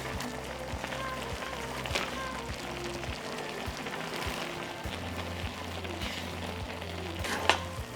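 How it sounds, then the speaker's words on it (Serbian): Mushrooms fry in butter with onion and garlic, giving a steady close sizzle throughout. Occasional scraping knocks from stirring come through, and a brief clatter is heard near the end. "Sve ću ovo promešati i pržiti dok šampinjoni ne budu gotovi."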